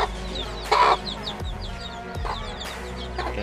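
Chicks and chickens cluck and peep in a chicken coop, with several short calls and a louder squawk close by against quiet background rustling.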